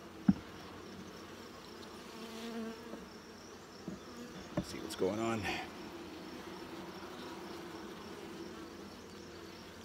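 Bees buzz continuously in a hive in a low, droning hum close by, with a few clicks and knocks and a brief spoken remark partway through.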